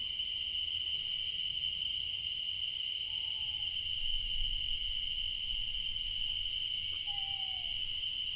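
Crickets chirp as a constant, high, steady drone through a calm night scene in the fishing game Fishing Planet, with a couple of faint hooting calls over low background hum.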